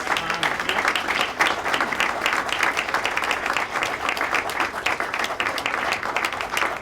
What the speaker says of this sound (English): let's hear a round of applause for all of our speakers